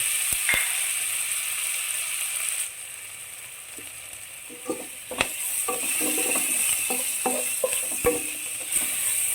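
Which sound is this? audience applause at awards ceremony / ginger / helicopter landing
ginger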